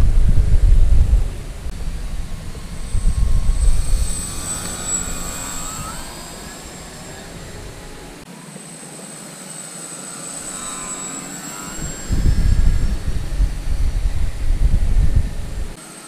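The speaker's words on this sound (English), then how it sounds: "This is a very easy flying airplane." A Dynam T-28 Trojan RC plane flies past with a whining electric motor and propeller buzz, swelling loud as it passes close, fading to a distant hum, then growing again.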